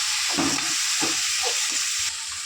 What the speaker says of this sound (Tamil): இதையும் போட்டு கூடவே நல்லா வதக்கிக்கலாம்.